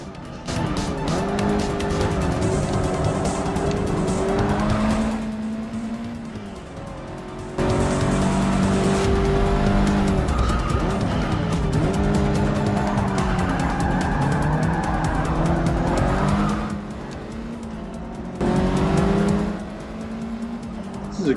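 Racing cars in Forza Motorsport 6 roar through gear changes, engines rising and falling, with tire squeal mixed in, loud and continuous.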